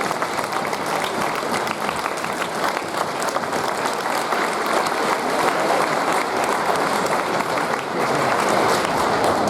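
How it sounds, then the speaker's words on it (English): An audience at a school Veterans Day ceremony applauds a veteran speaker with a loud, steady wash of many hands clapping together for several seconds, unbroken by speech. "Please give Mr. Victor Ambrose a warm applause."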